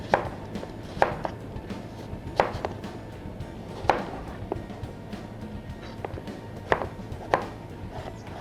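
Knife chopping an unpeeled, seeded apple on a cutting board for a black bean slaw, with sharp, irregular taps in small bursts spread across the clip, close and fairly crisp over a low background hum.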